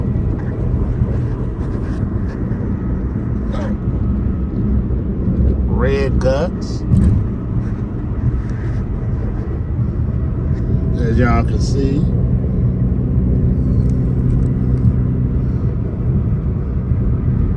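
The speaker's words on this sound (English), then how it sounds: "We on the freeway. In a nice car." Continuous low road rumble from a red car cruising on a freeway, heard from inside the car, steady under someone talking, with a few brief chirpy sounds.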